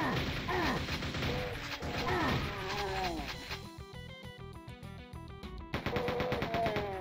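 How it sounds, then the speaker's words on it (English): Rapid machine gun fire from a chain gunner in Doom sounds in a dense burst of quick, crunchy shots, with overlapping voices talking around it. "the machine gun sound effect though"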